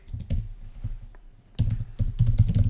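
Keys clatter on a computer keyboard as a prompt is typed into an AI image generator, with quick bursts of close, crisp taps separated by a short pause, no voices present.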